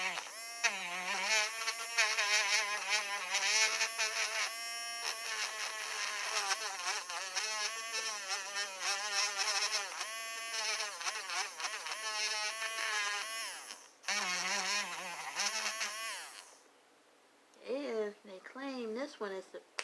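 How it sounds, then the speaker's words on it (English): A cheap battery-operated manicure and pedicure set's polishing buffer runs with a thin, insect-like electric buzz that holds steady for most of the stretch, with a person talking over it. "This is the polishing,"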